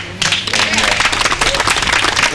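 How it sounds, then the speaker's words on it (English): An audience gives a round of applause for Judy at a nature preserve's 30th anniversary celebration, with dense, steady clapping that starts abruptly and holds loud and close for the length of the clip. "give Judy a round of applause"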